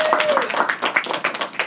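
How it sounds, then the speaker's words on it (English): Brief burst of audience clapping for a speaker at a state board of education meeting, dense rapid claps filling the room for under two seconds. "Give her another round of applause."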